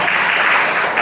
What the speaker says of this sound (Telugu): ఒకసారి గట్టిగా దేవుడికి చప్పట్లు కొడతారా?